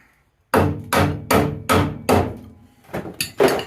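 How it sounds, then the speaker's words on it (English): Seven heavy metallic thuds from hammering with an old shock absorber ring out one after another at a steady pace, each a sharp close strike with a short ringing decay. "when you can't find a hammer, just use an old shock absorber"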